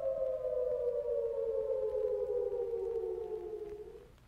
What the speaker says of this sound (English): If you hear an attack warning siren, head for shelter immediately.